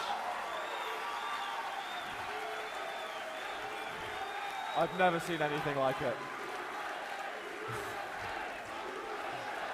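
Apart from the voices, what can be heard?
crowd cheering and applauding at QuakeCon 2016 grand final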